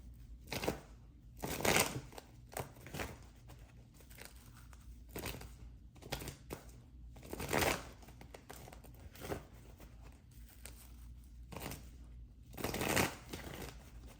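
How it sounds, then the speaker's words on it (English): Repeated riffling bursts of a card deck being shuffled, close and crisp, recurring every second or two with soft handling between. "Two more shuffles."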